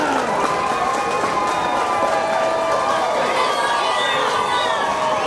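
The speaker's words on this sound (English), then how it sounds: "And Rader getting the crowd pumped up over there on the Nebraska side" A Little League World Series baseball crowd on the Nebraska side cheers and roars continuously, a dense, loud wash of voices and shouts from a large stadium audience that does not let up.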